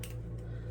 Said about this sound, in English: let's get some little scissors